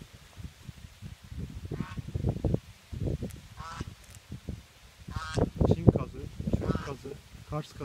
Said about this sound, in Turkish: arka taraftan kazlar grupları haline geliyor.